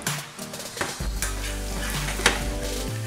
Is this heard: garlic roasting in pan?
yes